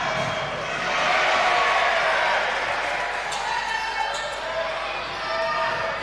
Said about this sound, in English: Crowd enjoying his miss there.